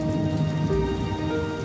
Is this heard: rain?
yes